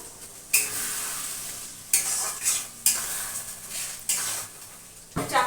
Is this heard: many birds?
no